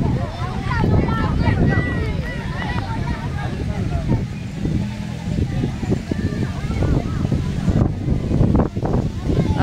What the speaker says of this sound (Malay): Aduh, angin lah.